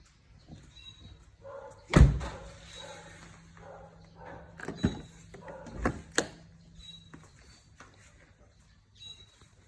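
Doors of a 2018 Mercedes-Benz E250 Avantgarde shut with a solid thud, followed by a few more sharp knocks and clicks spaced over several seconds in a quiet setting.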